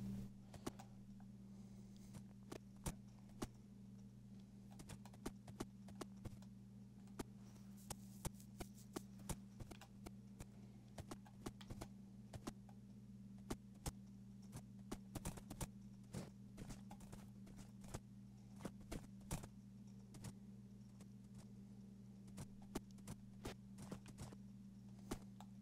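Horse hooves clip-clop steadily in the game Minecraft, a dense run of sharp taps over a constant low drone, with no voices present.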